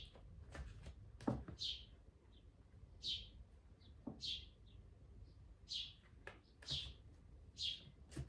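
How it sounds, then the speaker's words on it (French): A small bird chirps indoors in a living room, giving short, faint high tweets roughly every second or so over a quiet room with soft background knocks and rustles. "il est toujours là, hein, l'oiseau."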